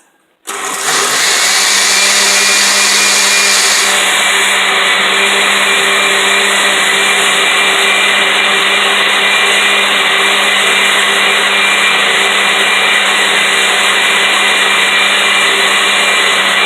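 A blender whirs loudly and steadily, close by, as it purees mango, lemon, ginger and water into juice, starting abruptly and running continuously without pause or talk.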